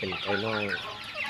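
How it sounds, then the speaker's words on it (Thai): A young chicken gives a short, close clucking call on a poultry farm, a brief rising and falling vocalization heard alone without talk. "นี่จะเป็นไก่น้อย"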